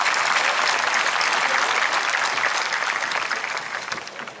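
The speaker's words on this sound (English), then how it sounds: "Let's give them one more round of applause." Loud, sustained applause from a large audience at a high school graduation, a dense wash of clapping that fades slightly toward the end.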